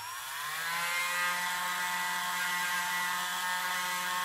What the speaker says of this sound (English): we can do this little turnip with the same drill bit